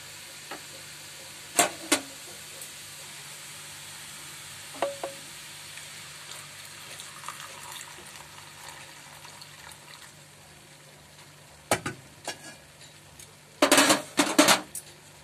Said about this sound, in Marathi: हे आता दुधामध्ये परतून घ्यायचं आहे।